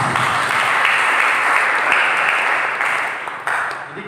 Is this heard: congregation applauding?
yes